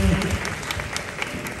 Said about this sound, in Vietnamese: chúng ta vỗ tay cho ngôi sao con ơi.